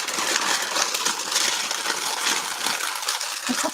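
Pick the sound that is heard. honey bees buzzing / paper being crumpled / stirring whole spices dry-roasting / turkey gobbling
paper being crumpled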